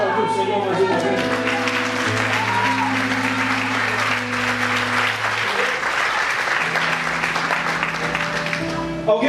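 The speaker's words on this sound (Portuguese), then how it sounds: "Pode aplaudir o Senhor mais uma vez" Congregation applauding during a Portuguese-language revival church service, dense crowd clapping sustained the whole time, layered with loud sustained organ or keyboard chords and a voice speaking over it.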